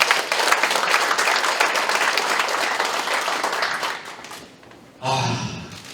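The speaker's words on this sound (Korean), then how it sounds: "우리 스스로를 위해서 박수 한번 쳐도 되지 않겠습니까?" Dense, loud audience applause at a political speaking event in Daegu fills the room, thinning out after about four seconds before a voice resumes speaking.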